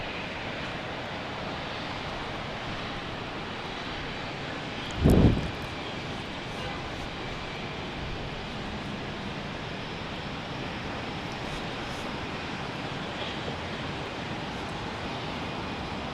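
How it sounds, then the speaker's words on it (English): An American Airlines Airbus A319 taxis toward runway 28 right for departure at Fort Lauderdale International Airport in Florida, giving a steady, even broadband engine roar throughout, with one brief louder bump partway through. "Here I see American. I think that is an A319. Taxiing down for 28 right for departure."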